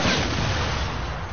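A grenade blast in Fortnite, a loud close explosive boom whose rumble decays over about a second.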